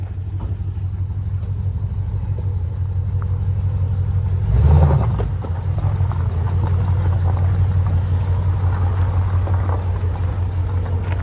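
The deep, rumbling exhaust of a Chevy Camaro SS 6.2L V8 drones steadily nearby while driving, swelling briefly in a louder burst midway before settling back to a constant low growl.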